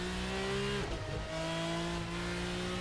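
A simulated RSS Formula 3 V6 single-seater racing engine in Assetto Corsa holds a steady loud drone, dips briefly as it shifts or lifts off, then settles back into a sustained tone.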